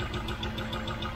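A Rover V8 engine runs at idle with faulty hydraulic tappets, giving a steady, close mechanical hum with a quick, even ticking rhythm throughout.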